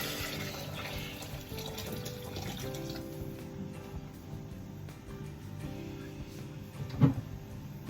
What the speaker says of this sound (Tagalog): Mainit na tubig ito.